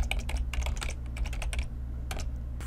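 Rapid typing on a computer keyboard, close and fairly quiet. Irregular bursts of key clicks come with a short pause in the middle.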